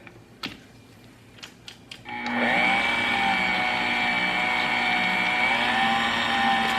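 An electric hand mixer runs on speed 4, beating eggs into maple pound cake batter. A few soft clinks come first, then the motor starts and holds a loud, steady whine to the end.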